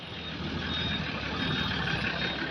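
A loaded ten-wheel truck maneuvers on a ghat road near Nashik, its steady engine rumble loud and close, with a continuous reversing alarm over it.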